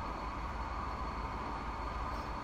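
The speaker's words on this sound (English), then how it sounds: "I do believe the French train is passing the British train as we speak." A diesel train in the Transport Fever racing game rumbles steadily past, a continuous low mechanical drone with rail noise holding at an even level throughout, with no talk.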